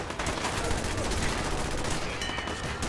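Rapid bursts of heavy cannon fire in Fallout 4, dense and continuous, loud throughout with no clear speech.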